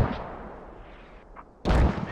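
Gunfire in the military shooter game Squad, a rolling burst of distant rifle fire and rumble that fades, then a sudden loud, close blast of shots near the end.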